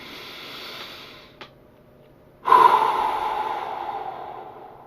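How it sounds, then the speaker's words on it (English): Deep meditation breathing, very close and alone: a long, soft inhale is followed by a pause, then a loud, drawn-out exhale that slowly fades. "very like deep breaths to the point that you can hear your breath"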